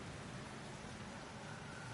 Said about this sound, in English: Oh, it's raining out.